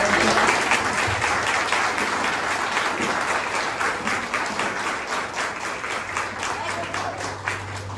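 Audience applause at a spiritist gospel gathering in Cubatão, a dense steady wash of many hands clapping that swells loud at the start and holds for several seconds, with a voice faintly underneath.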